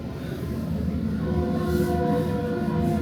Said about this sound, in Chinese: 还有火车